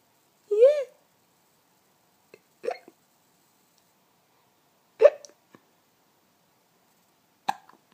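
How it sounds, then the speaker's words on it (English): A baby hiccuping, four short separate hiccups spaced a couple of seconds apart in a quiet room, the first with a slight voiced squeak, each close and clear. "We love a hiccup, don't we?"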